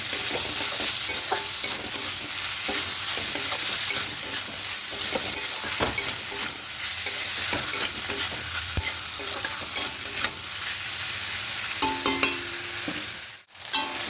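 Prawns and tomato stir-fried with kochur loti in a pan, a steady broadband sizzle with scraping spatula strokes throughout, a brief dip near the end, no voices.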